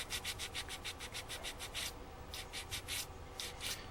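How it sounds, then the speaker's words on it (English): Hand sanding a cured body panel, quick rhythmic back-and-forth scrubbing strokes in steady bursts, close and faint, with a short pause midway. "So I'm gonna sand on this a little bit and kind of get it the way I want it"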